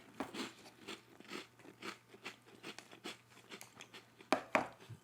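Snack chips crunch in a rapid, irregular run of close, loud bites and chewing, with a couple of sharper crackles near the end and no talking over them.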